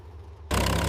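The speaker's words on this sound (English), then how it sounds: "Close-up of exhaust stacks shows initial smoke clearing as the engine stabilizes at idle, smooth pulses replacing rough coughs." Mitsubishi A6M Zero aircraft radial engine settling into idle, a steady rumble that abruptly jumps to a much louder, fuller roar halfway through, close and alone with no talk.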